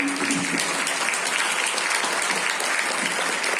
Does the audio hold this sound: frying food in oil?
no